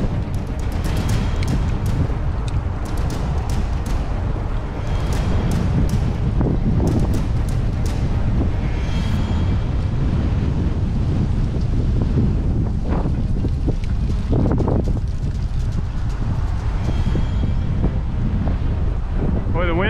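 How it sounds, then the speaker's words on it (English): Strong gusting wind roars across the microphone outdoors, a loud, constant buffeting rumble that swells and eases in gusts, with faint voices now and then underneath. "Boy, the wind is sure gusting."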